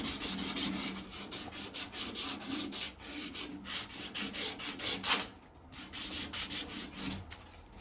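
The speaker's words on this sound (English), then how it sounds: "all you do is get some sandpaper. I'm using 150 grit, which is fine." Sandpaper of 150 grit scrubbing a copper pipe by hand, a steady run of quick, close rasping back-and-forth strokes with a brief pause midway, with no voices.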